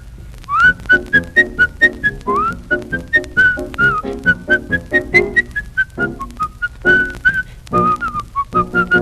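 A little marching tune whistled clearly and loudly, a bright melodic line of short repeated notes in a steady march rhythm running throughout, with no talking.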